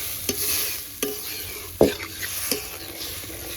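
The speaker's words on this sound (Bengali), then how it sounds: "এবার পরিমাণ মতো জল দিয়ে দিচ্ছি জল দিয়ে এবার ভালো করে জাল দিয়ে নেব" Yam and potato curry with slit green chillies simmering in a pan after water is added, a steady sizzle broken by several distinct stirring scrapes and clinks of a spoon.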